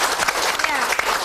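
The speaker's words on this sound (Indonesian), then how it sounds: "Tepuk tangan dong." An Indonesian studio audience breaks into a short, dense burst of clapping that lasts about a second.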